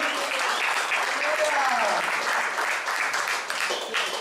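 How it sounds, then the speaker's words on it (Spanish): Applause from a workshop audience for two presenting groups, a steady dense clapping that fills the whole stretch with mixed voices beneath it. "Gran aplauso para el grupo 7 y 8"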